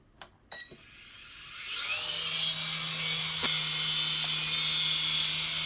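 A Syma S54H RC toy helicopter with a small internal battery, starting with a few clicks before its rotor spins up into a steady high-pitched whine that holds loud and close, with no talking.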